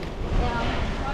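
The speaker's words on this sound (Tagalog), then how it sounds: "Kaya pala malakas yung hangin, Betchay." Strong wind buffets the microphone in a constant, rough roar, loud and close throughout the brief moment.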